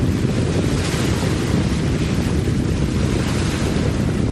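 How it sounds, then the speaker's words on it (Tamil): The flooded Brahmaputra river in Assam overflows its banks with a dense, unbroken roar of rushing water, loud and steady throughout, with wind noise and no voices. "பிரம்மபுத்திரா ஆற்றில் அபாய அளவை தாண்டி வெள்ளம் கரை புரண்டு ஓடுகிறது"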